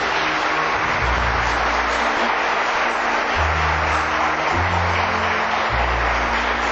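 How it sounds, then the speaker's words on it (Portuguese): Church congregation applauding the Lord during a Portuguese-language worship service, a steady dense wash of clapping from many hands filling the room, with low organ or keyboard chords sustained underneath. "Então dê um aplauso para o Senhor"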